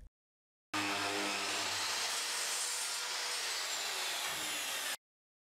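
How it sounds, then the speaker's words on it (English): A power saw cuts wooden rails to length for a mudroom bench: one loud, continuous cut of about four seconds that starts and stops abruptly, with silence before and after. "I cut the rails to length by sneaking up on the cut to ensure a tight fit"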